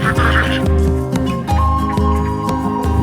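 Domestic native ducks on a duck farm quack loudly and close up, a dense run of repeated nasal calls overlapping one another in quick rhythm.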